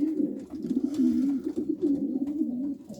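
Homing pigeons coo close up, a steady low rolling coo repeated without pause over about three seconds, with no other sounds standing out.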